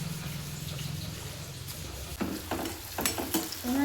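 Chopped onions frying in a pan, a low sizzle underneath, then scraping stirs and clatter from a utensil working through them in a home kitchen, near and steady.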